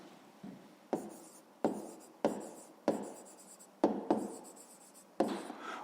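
Pen strokes scratch on paper in a steady series of about nine short, close scrapes while numbers are written down for a grade-5 math exercise.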